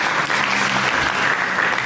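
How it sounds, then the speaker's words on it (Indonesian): A church congregation gives a loud, sustained round of applause, many hands clapping together in a continuous dense roar with no gaps. "Mari kita berikan tepuk tangan kepada Yesus."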